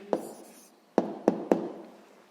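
Quiet close-up handwriting of an answer for a sixth-grade maths exercise, with four crisp pen strokes and taps on paper, the last three coming in quick succession, and no speech.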